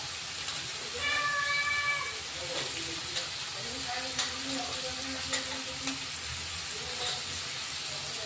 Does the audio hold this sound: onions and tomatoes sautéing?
yes